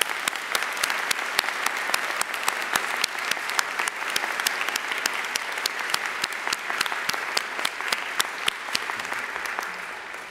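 An audience at a university faculty and staff convocation applauds a choir, with steady, dense clapping that continues for about ten seconds and fades slightly at the end, no voices over it.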